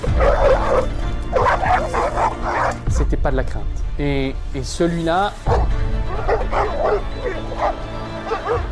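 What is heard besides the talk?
dog barking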